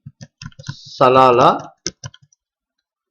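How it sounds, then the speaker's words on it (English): Quick clicks of typing on a computer keyboard, a short burst of separate keystrokes near the mic, broken up by a brief spoken word. "I am going to type my company's name"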